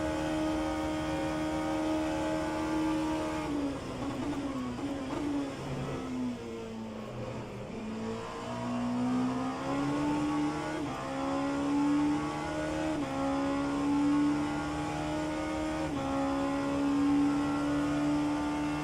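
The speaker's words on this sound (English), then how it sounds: "What do you mean the engine sound is going quiet on the heavy braking?" An endurance sports car at Le Mans in rFactor 2 holds a steady high engine drone, then drops through the gears under braking, and the pitch climbs again as it accelerates away.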